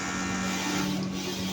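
A used sublimation printer runs with a steady mechanical hum and a constant tonal drone, close and continuous, with no voices.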